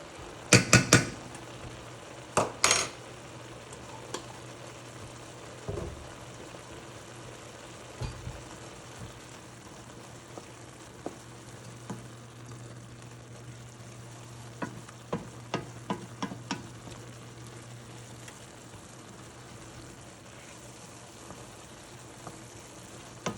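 Homemade chicken soup with garlic simmers in a pot with a faint steady sizzle, broken by scattered sharp clanks of a utensil stirring against the pot, quiet and close with no talk.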